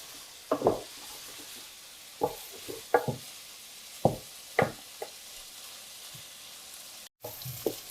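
Beef fries in a pan for jajangmyeon: a steady close sizzle broken by intermittent scrapes and knocks of a utensil stirring the meat.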